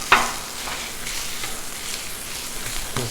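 Pork chorizo sizzles and crackles steadily on a hot Blackstone griddle, a dense continuous frying hiss with a sharp scrape or stir near the start and a few soft clicks of spatula work.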